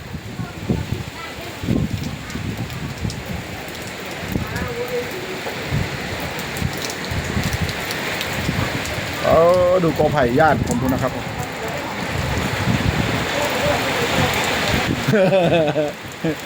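A sudden rainstorm with strong wind in Nakhon Phanom pours steadily, a dense wash of rain and gusts filling the whole stretch while someone talks over it throughout.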